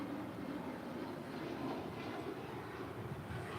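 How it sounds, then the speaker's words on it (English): A United Boeing 737 MAX 9 airliner departs LAX bound for Cancun, its engines giving a steady, continuous roar that fills the scene at a constant level without letup. "That is United 1278 departing to Cancun on a MAX 9."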